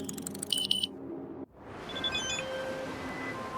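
Incoming phone call alert in Cyberpunk 2077, a rapid repeating electronic beeping tone that cuts off abruptly, followed by a softer in-game ambience with faint tonal chimes.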